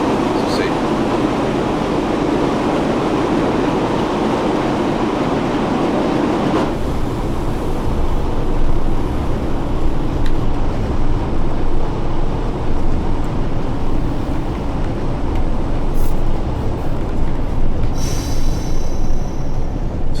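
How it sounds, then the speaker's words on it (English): A long train braking to a smooth stop in Train Sim World 4, a loud steady rumble and rail hiss that shifts after a few seconds, with a brief high squeal near the end. "we are using the train brake just to bring it down to a nice smooth steady stop"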